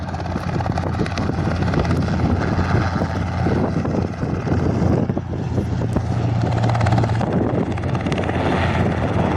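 Cessna 150 light aircraft landing on a touch-and-go runway on a windy day, a steady droning propeller engine heard from a distance, with wind noise throughout.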